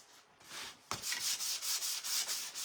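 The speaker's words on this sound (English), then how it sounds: "I'm just going to give it a good little sanding." 400-grit sandpaper rubs back and forth across a surface in steady, close strokes, a soft hiss with a brief pause near the start.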